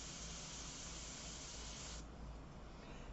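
An airbrush sprays ink in a steady, continuous hiss at close range, shifting slightly in tone partway through but never pausing, with no voices.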